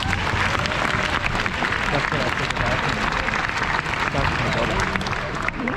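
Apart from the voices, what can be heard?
round of applause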